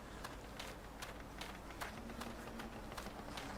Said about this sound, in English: the footsteps are very loud in this game